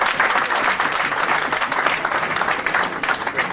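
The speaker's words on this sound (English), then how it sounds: "So, another round of applause for all of you." A crowd applauds steadily, dense clapping filling the whole stretch at a loud, even level.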